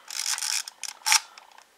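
Crank on a Fuji GS645 film camera's shutter being wound, giving a series of short dry ratcheting clicks and whirs in uneven bursts, close up with no voices.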